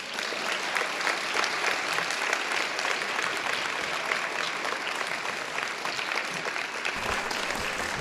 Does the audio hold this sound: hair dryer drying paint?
no